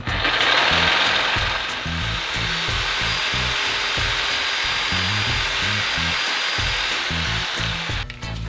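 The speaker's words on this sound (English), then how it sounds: "for this, I'm just going to use a sawzall" A sawzall reciprocating saw cuts through the handle of a brush in a garage, giving a loud, continuous buzzing rasp with a steady rapid pulse that runs unbroken for several seconds before stopping.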